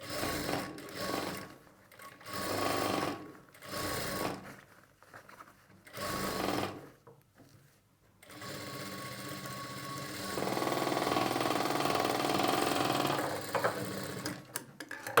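A sewing machine stitches a garment sleeve in short bursts of whirring, pausing between runs, then settles into a longer continuous run of steady stitching, close and fairly loud with no talk.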